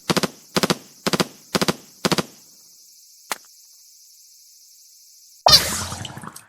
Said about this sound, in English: here's how the L3 Nozzle Nose sounds like in Splatoon.